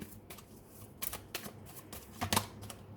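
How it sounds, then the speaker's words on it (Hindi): Tarot cards are shuffled and drawn from a deck in a series of quick, soft papery flicks and snaps, close and quiet, with short pauses between the bursts. "दो कार्ड और निकालती हूँ मैं।"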